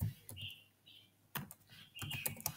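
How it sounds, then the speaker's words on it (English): A computer keyboard is typed on in a few short, quiet clusters of clicks with gaps between them, in a faint indoor setting. "I'm going to type this IP"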